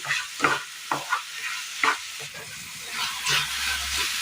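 Jaggery and jackfruit stirred in a hot pan for a Kerala sweet, with a spoon scraping in several distinct strokes over a steady sizzle, close and moderately loud, with no talking.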